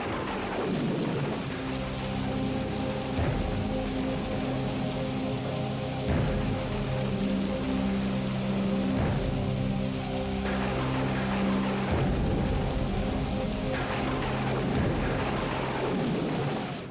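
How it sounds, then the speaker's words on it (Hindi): Heavy rain pours down steadily in a dense, continuous patter, with low rumbling and tonal layers underneath throughout. "लेकिन बारिश है कि रुकने का नाम ही नहीं ले रही थी।"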